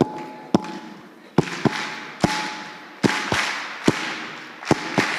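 A crowd claps in Rwandan style: sharp, loud, synchronized claps in an uneven rhythmic pattern with pauses between groups, over a low hum and faint background voices at an event.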